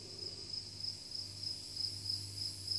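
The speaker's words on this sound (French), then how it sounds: "Voici des grillons mâles." Male crickets chirp by rubbing their wings together, producing faint, regular high-pitched trills repeating in steady pulses over a quiet background hum.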